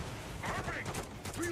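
Bursts of gunfire at a shooting range in Call of Duty, with rapid shots and mechanical clatter under a continuous game soundscape.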